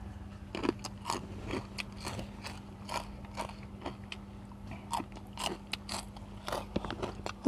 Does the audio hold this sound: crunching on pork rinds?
yes